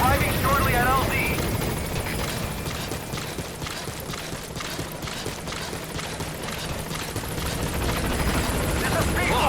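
The B-Quad helicopter in Metal Gear Solid V approaches the landing zone with a loud, steady rotor thump and engine roar that fills the scene, under radio voices.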